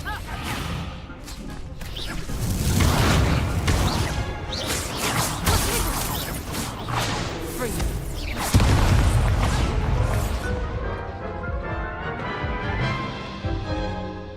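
Confringo and Descendo spell effects in Hogwarts Legacy combat, loud crashing blasts, whooshing swipes and smashing impacts tumbling together in a busy, close barrage that eases into a ringing tail near the end.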